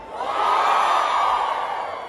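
A concert crowd at the Expoapi 2023 show in Teresina roars with shouting and cheering, a loud, sustained wash of massed voices that swells and holds steady throughout.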